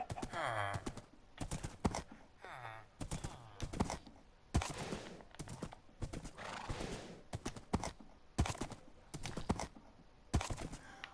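A white horse's hooves clip-clop rhythmically at a steady gallop in Minecraft, with occasional whinnies and game sound effects layered on top.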